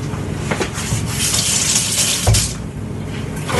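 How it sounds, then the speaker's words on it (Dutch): Water runs steadily from a kitchen tap for a few seconds, a continuous close hiss with a brief louder gush partway through while a knife edge is held under the stream. "Ga even om de kraan houden met de botkant van het mes."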